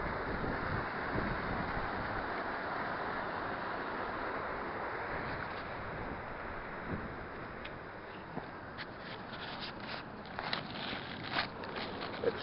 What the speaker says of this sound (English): The wind's picking up here.